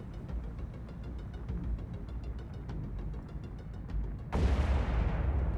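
In the submarine game Cold Waters, a steady low rumble of engine and distant artillery-like booms runs for several seconds before a sharp, louder launch or explosion burst takes over near the end.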